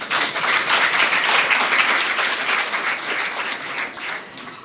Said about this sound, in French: veuillez l'applaudir très chaudement